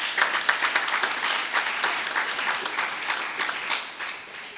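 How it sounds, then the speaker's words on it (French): Audience at the opening ceremony of a bishops' plenary assembly applauds warmly for several seconds, a dense crowd clapping that swells early and slowly tapers off, moderately loud and without speech. "Est-ce qu'on peut applaudir Monseigneur Miguel?"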